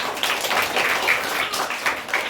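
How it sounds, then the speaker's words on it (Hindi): Children clap at a Republic Day school event in a short burst of lively, dense applause, close and moderately loud. "आज इतना अच्छा ताली बजाओ"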